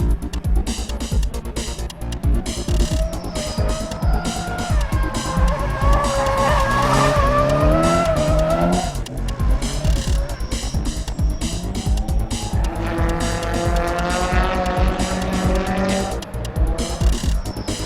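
A Nissan S13 drift car slides with loud tire squeal and a revving engine whose pitch climbs and falls through two long skids, close and intense.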